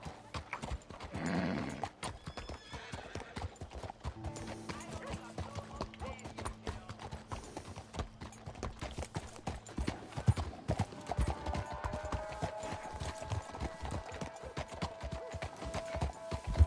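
Horse hooves clip-clop steadily through a Red Dead Redemption 2 ride, close and continuous across the whole stretch, with an occasional whinny and game music or ambience layered underneath.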